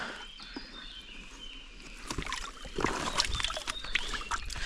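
Water is scooped into a fishing aerator bucket outdoors on a narrow river channel, a faint trickling and sloshing that grows louder toward the end.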